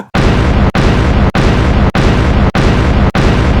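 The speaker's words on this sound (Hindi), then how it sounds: "नेपाल पार्लियामेंट को बम से उड़ा देता हूँ" A bomb explosion blowing up the Nepal parliament in a comic skit comes across as a very loud, sustained, roaring blast. The roar is broken by brief regular dropouts into several equal repeating chunks, with no voices.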